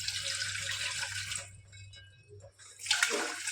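Tap water running into a cooking pot in a home kitchen, a bright splashing stream that stops midway, then a short burst of pouring resumes near the end.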